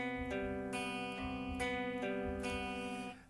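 Clean acoustic-style guitar picking an outro pattern, single notes ringing in a steady repeating rhythm, close and alone, fading at the end.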